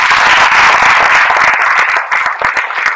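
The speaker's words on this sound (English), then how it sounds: "He deserves another outstanding round of applause." A university lecture audience breaks into loud, dense applause that fills the room, then thins into scattered individual claps as it fades.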